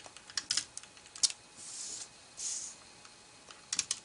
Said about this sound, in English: I'm going to use my tape runner and I'm just going to put tape